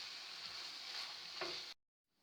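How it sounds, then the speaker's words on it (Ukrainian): Mushrooms fry in a pan with a steady quiet sizzle and one brief scrape of stirring, then the sound cuts out abruptly into near silence. "І ще залишаю смажитись на хвилинку-дві хвилинки."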